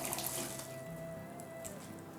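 Cold tap water runs steadily into a sink or pot while jengkol is prepared for cooking, a close, continuous splashing rush with no talk over it.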